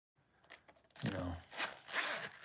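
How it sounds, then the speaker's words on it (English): Zipper being pulled on a veg tan Italian leather wallet, a close, brief rasping run that repeats in short strokes, with a voice faintly present. "this one has a rear zipper on it"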